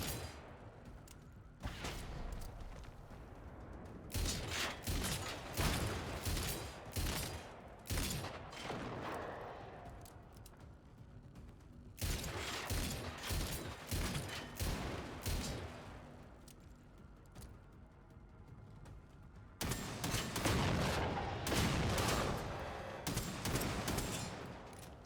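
An automated turret in the video game Generation Zero fires in three heavy bursts of rapid gunfire, each several seconds long, with quieter gaps between them.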